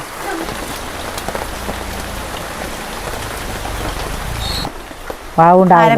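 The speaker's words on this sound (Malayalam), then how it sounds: "നല്ല മഴയില്ലേ" Steady, dense heavy rain pours down close by, a continuous hiss of drops on surfaces, ending with a brief burst of speech.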